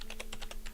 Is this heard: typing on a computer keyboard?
yes